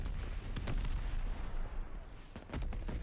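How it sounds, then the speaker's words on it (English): A mortar barrage in Call of Duty Vanguard multiplayer lands as a steady rumble of distant booms and cracking impacts, with a few sharper blasts standing out over a continuous low roar of battle. "Allies calling a mortar barrage."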